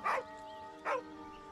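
A dog in the fantasy role-playing game Baldur's Gate 3 gives two short, faint whimpering yelps over a quiet, steady tonal game backdrop.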